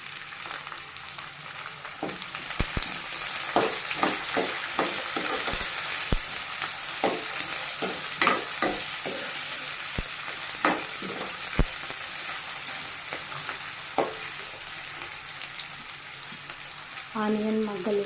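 Sliced onions, green chilies and dried red chilies fry in a pan for bitter gourd fry, a steady, close sizzle with scattered pops and scraping stirs throughout.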